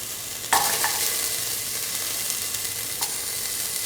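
Ginger and garlic fry in a pan for an okra, carrot and coconut milk stew, a steady close sizzle with a couple of sharp stirring scrapes.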